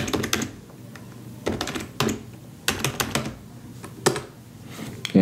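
Keys clack on a computer keyboard as a password is typed while a new user account is set up on a Raspberry Pi, heard as several short bursts of close, crisp keystrokes with brief pauses between them.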